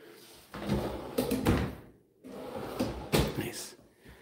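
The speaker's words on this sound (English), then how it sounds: "let's take a look at some of the drawers here." Drawers in a manufactured home sliding open and shut in two rounds, each with a rolling glide and a firm close, heard nearby in a quiet room.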